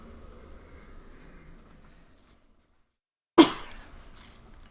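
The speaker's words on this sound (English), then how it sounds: "to turn my head and cough" One sharp, close cough bursts out after a near-silent pause, following faint low background noise in a room during live wood burning.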